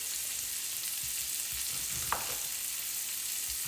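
Onion and bacon frying in oil, a steady close sizzle and crackle running throughout with a brief brighter stir or scrape partway through.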